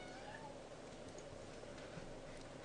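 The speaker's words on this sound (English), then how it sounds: "say hello to my annoying cat" A pet cat meows a few times, faint and fairly distant, under a steady bed of game sound effects and music with a commentator talking.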